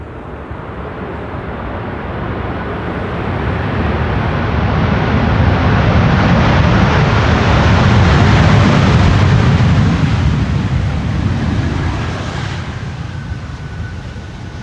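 A Chinese-operated Airbus A330 landing on the Polderbaan runway 18R at Amsterdam Schiphol, its loud jet roar swelling to a peak midway and then fading as it passes, with no voices.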